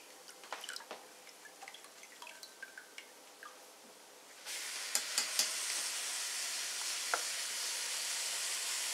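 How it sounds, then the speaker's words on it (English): Soaked red lentils tipped into a hot soup pot: a sudden broad hiss and sizzle takes over halfway through, steady and close, preceded by faint drips and small clinks. "I'm going to drain these lentils, the ones that were soaking, and I'm going to add them to the soup pot"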